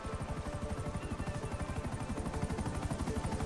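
Buzzard attack helicopter in the video game GTA 5, its rotor beating in a fast, steady chop close up and loud, with a dense engine whine running underneath throughout.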